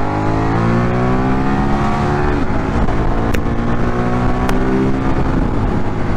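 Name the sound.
Ducati V2 motorcycle engine revving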